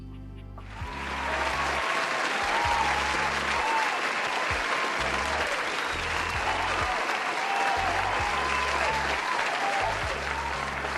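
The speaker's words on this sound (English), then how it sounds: "I like that cheering I had on my laptop" A crowd cheering and clapping sound effect played from a laptop bursts in and holds as a loud, sustained roar of applause, with a rhythmic low beat pulsing underneath throughout.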